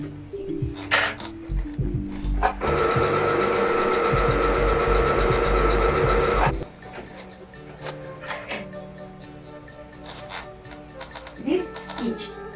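A domestic sewing machine runs a stitch for about four seconds, a steady, loud mechanical whir with rhythmic ticking. Clicks from setting the stitch come before and after, and a person speaks around it.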